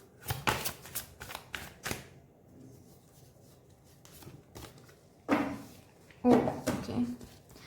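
A deck of cards is shuffled in quick riffling clusters, first at the start and again near the end, with a card drawn for a reading and a quiet pause between the bursts.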